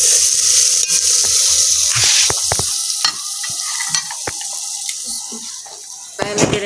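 Spinach tossed into hot frying masala for aloo palak, sizzling steadily with repeated scraping and stirring strokes of a spoon against the pan, close and fairly loud throughout.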